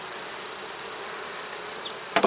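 Bees swarming in a hive feeder, a faint steady buzzing drone throughout, close by, ending in a brief louder rustle.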